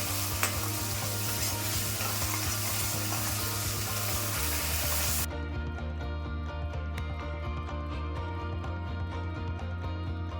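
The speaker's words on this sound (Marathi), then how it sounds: "ती टोमॅटोची पेस्ट त्या फोडणीमध्ये घालून व्यवस्थित परतून घ्यायची." Onion-tomato paste sizzling and frying in hot oil with spoon stirring, a steady close hiss and crackle that drops a little softer halfway through, continuing alone without talk.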